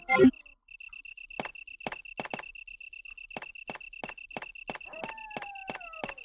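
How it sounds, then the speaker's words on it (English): Crickets chirp steadily in a quiet night scene in the video game Resident Evil, a thin continuous trill with repeated sharp clicking taps spaced through it, moderate and fairly near, with a brief thump at the start. "Yeah, there's literally crickets right now."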